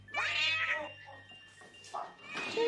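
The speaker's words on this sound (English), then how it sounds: "Just a cat." A cat meows, a couple of drawn-out, wavering cries heard up close indoors, alone without speech.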